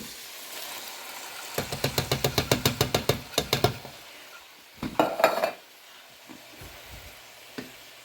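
Canned fire-roasted diced tomatoes being stirred into a pot of American goulash: a quick run of rhythmic knocking and scraping of a spoon against the pot, a short burst of wet stirring, then a few scattered taps.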